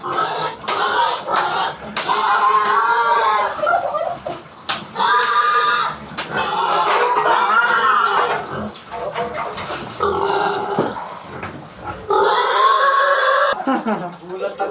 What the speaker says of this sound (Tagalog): Isang baboy para sa bagong taon.